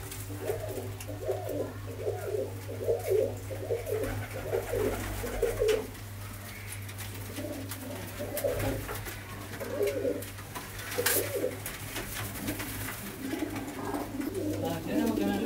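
Pigeons coo repeatedly in soft, rolling phrases close by, over a low steady hum with a voice occasionally in the background.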